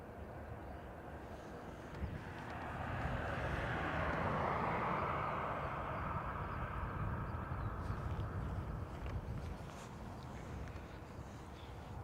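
A Pegasus Airlines jet bound for Istanbul taxis at Dublin Airport, a distant engine roar that swells and holds as it moves, with some wind noise over the microphone.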